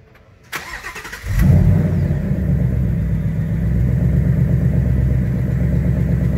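A Bullitt Mustang's engine cranks briefly, catches with a loud roar, then settles into a steady, rumbling idle that stays close and continuous.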